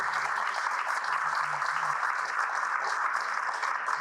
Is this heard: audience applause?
yes